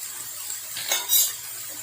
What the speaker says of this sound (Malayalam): ഇത് നല്ലവണ്ണം ഇളക്കി കൊടുക്കണം.